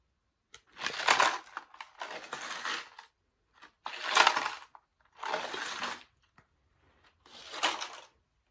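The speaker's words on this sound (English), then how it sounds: "Jake grabbed some shiny coins from the chest and put them into Holly's bag." Coins taken from a pirate treasure chest clink and crunch in five separate bursts, each about a second long, with short quiet gaps between them, close and fairly loud with no talking.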